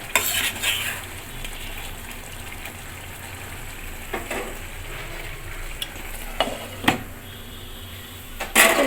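Muri ghonto made with katla fish head and ghee, stirred in a pan on the stove: a continuous close sizzle with intermittent scraping and clinking of a spoon against the pan, no talking.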